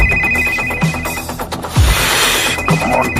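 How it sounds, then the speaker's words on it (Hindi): A telephone rings unanswered, its electronic trill repeating steadily and fairly close over a busy background of rustling and movement. "ये मेरा फोन क्यों नहीं उठा रही है?"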